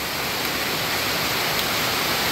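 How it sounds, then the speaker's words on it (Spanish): Heavy rain from a sudden storm pours down in a steady, dense hiss, loud and close, with no breaks or voices over it. "Mira, lloviendo la gran tormenta."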